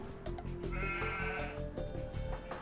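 Sheep in Age of Empires II bleat in a wavering, quavering cry close by, laid over steady game music and ambience without speech.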